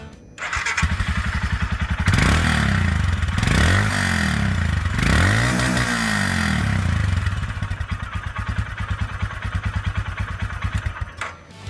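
A 2020 Royal Enfield Himalayan motorcycle with its exhaust running, idling with a steady low thump, then revving up and down through several swells before settling back into a close, loud idle.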